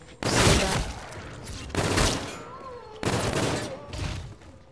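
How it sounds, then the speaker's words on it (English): Three loud, bursty volleys of machine-gun fire in the Call of Duty video game, each a sharp onset that decays over about a second, with no talk. "These like machine gun type things, these take forever to reload."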